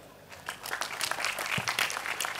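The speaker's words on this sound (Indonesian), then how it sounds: "tepuk tangan untuk Dar ya." Dense, continuous audience applause fills a gathering for a talk and discussion on drug use, rising slightly and holding steady throughout without any speech over it.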